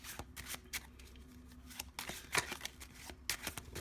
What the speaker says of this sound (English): you're going to shuffle up the deck with a bunch of false shuffles